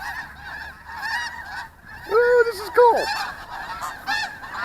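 Several geese honk loudly and close by in overlapping calls, with a person briefly exclaiming over the steady drone of a small FPV drone flying among them.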